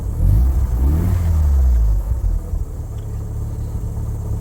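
A Mazda RX-7 engine turns over and catches on a cold start, roaring loudly for a couple of seconds before settling into a lower, steady idle rumble.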